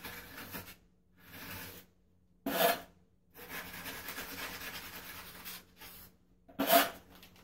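A trowel packs and scrapes mortar on a shower curb, pressed hard to remove excess material: intermittent close rasping strokes in bursts separated by short pauses, with no talk.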